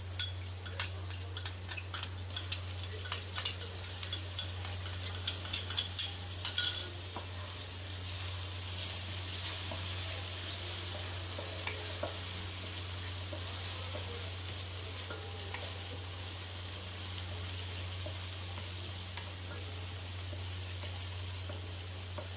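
Steady, quiet sizzle of onions frying in a pan with ginger garlic paste, with a few light utensil clinks early on and no talking.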